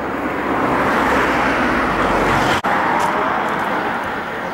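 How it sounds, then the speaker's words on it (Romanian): Steady, loud road traffic roar from passing cars, continuous throughout with a brief dip partway through, no talking. "Trebuie să ne obișnuim cu traficul."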